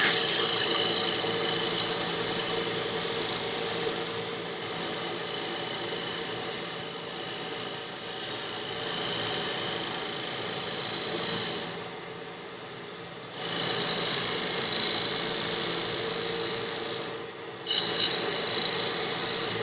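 A negative rake scraper cleaning up a wooden lidded box on a lathe, making a bright, rasping scrape in bursts, loud and close, with short pauses and a lower hum of the turning lathe between passes.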